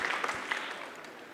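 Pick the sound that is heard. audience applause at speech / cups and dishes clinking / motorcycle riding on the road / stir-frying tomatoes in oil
audience applause at speech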